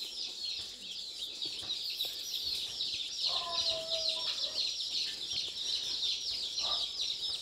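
Aseel and Kadaknath chickens give soft, intermittent clucks under a constant, loud high-pitched chorus of insects or birds, with a brief tonal call standing out near the middle.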